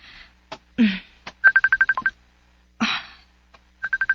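A telephone rings with an incoming call, sounding as a rapid train of identical electronic beeps that repeats after a short gap, mixed with a few brief, louder noises.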